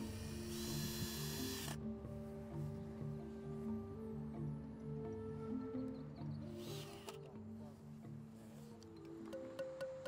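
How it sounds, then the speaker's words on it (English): A power tool drives tamper-proof screws into a mounting post for outdoor instrument holsters: a near, steady motor whir with several rising and falling speed changes, and brief ratcheting clicks toward the end. "begin the final installation using tamper-proof screws to attach the holsters to the mounting post"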